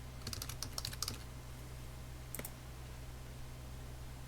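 Keys tapped on a computer keyboard while a department name goes into a web form: a quick burst of close, light clicks at the start, then a brief pair of taps after a pause, over steady low hum.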